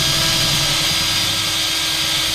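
A power drill runs steadily at high speed, spinning through wood and throwing sawdust, making a loud continuous whirring roar with a constant buzzy drone and no voices.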